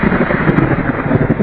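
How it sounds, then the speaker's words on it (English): Stormy weather with loud, continuous low rumbling and gusting wind buffeting the microphone, steady and close throughout. "everywhere is windy during a stormy weather"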